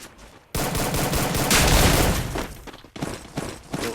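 Gunfire in a shooter video game, a dense burst of rapid shots that swells into a loud blast, then trails off into further scattered shots, loud and close.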